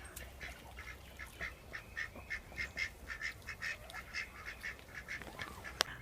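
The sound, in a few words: ducks quacking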